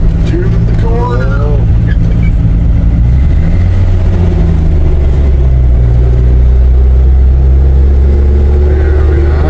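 The engine of a 1958 Chevy Apache pickup with a three-on-the-tree manual gearbox, towing a boat, rumbles low and heavy as it slows, shifts into second and turns a corner. Someone talks over the steady drone.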